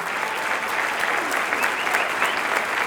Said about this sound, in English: let's give a round of applause for Jeff Green